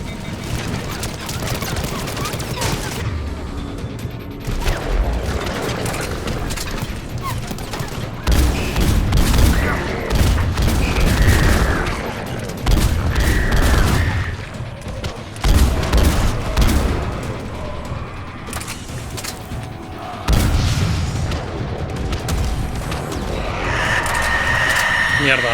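Heavy combat in the video game Mass Effect Legendary Edition, with repeated bursts of weapon fire and booms through a loud battle. Someone talks over much of the shooting.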